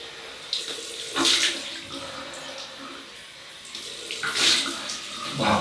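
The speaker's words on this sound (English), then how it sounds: "Cold water." Cold water runs from a tap during a wet shave with a Muhle R108 razor, a steady hiss with louder splashing bursts twice as the stream hits something.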